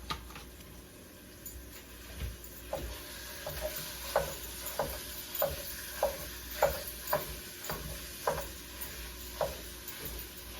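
Mild ground pork sausage browning in a pan gives a low background sizzle, broken by regular scraping stirs that come about every half second to second, close and moderately loud. No one speaks.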